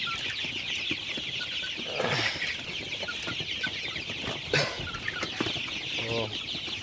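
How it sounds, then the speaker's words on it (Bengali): A flock of 36-day-old Sonali super hybrid chickens drinking water at night in cold weather clucks continuously, with overlapping nearby clucks and calls over a busy, shuffling background. "আমার মুরগিগুলা কিন্তু সবগুলা পানি খাইতেছে"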